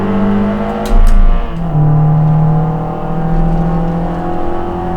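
Spec Miata race cars in a virtual reality racing game at Harris Hill, cold tires on lap one, a close, loud engine drone rising and falling in pitch, with a brief burst of louder noise near the second mark.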